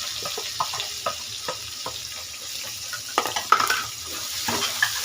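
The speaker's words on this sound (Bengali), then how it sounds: "এখন কাঁচামরিচ দিয়ে দিচ্ছি, একটু মোটা মোটা করে কেটেছি, মোটা মোটা করে পেঁয়াজ দিয়ে দিচ্ছি।" Chopped green chilies and onions sizzle in hot oil in a pan with garlic, a steady frying hiss broken by occasional stirring clinks and scrapes, close and moderately loud.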